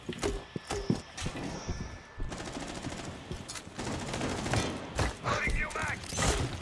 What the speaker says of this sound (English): He shot me through the floor.